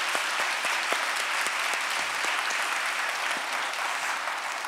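An audience at a church book concert applauds, steady massed clapping with a few sharper individual claps, moderately loud and sustained without talk over it.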